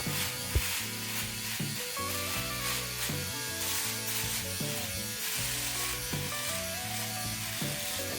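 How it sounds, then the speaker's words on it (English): A Philips OneBlade electric shaver cutting a four-day beard gives a steady close buzzing hum, with a rough scratchy rasp as it moves over the stubble and no speech. "Now let's shave some beard."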